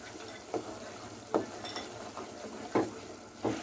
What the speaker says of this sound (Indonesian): Sambil saya aduk terus ya bun ya